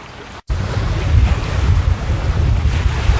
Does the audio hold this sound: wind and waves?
yes